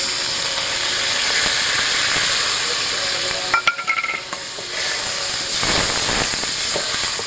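Spice paste frying in a pan with tomato sauce, salt and water for a cabbage and egg dish gives a steady, loud sizzle and hiss throughout, with a brief sharper crackle midway.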